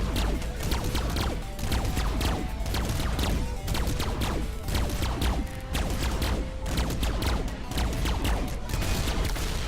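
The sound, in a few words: spaceship weapons firing to blow a hole in a ship, from video game Starship Theory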